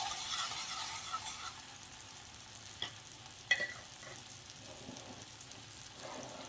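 Garlic fries in melted butter in a pan. A soft, even sizzle runs close by, with a few faint clicks and light scrapes over it.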